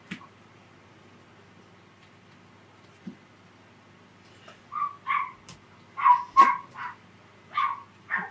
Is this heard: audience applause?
no